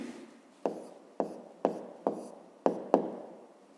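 A formula written by hand for a fifth-grade maths exercise, six or seven sharp pen taps and short scratchy strokes spaced about half a second apart, close and fairly quiet.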